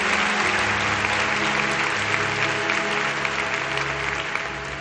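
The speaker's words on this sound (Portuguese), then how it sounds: "Vamos aplaudi-la mais uma vez?" Church congregation applauding together, a dense, steady wash of clapping that holds loud throughout and eases slightly at the end, with low musical tones running beneath.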